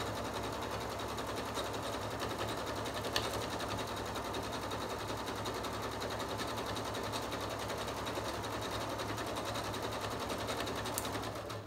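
Sewing machine runs steadily along the edge of a taco-shaped pillow, a fast, even mechanical whir with rapid stitching pulses, close and continuous for the whole stretch.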